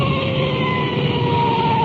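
A police car siren wailing while the car rolls code 3, a continuous loud tone over engine rumble, heard from inside the vehicle.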